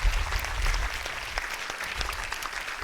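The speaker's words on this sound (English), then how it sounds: "Let's give them a round of applause." Audience applause at a 30x30 partnership summit, a steady moderate wash of many hands clapping, with a low rumble of the room underneath and no speech.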